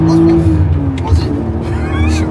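A BMW 130i with a 265 hp engine pulls hard under acceleration while driving with gear changes, a steady loud engine drone close by, with people talking over it inside the car.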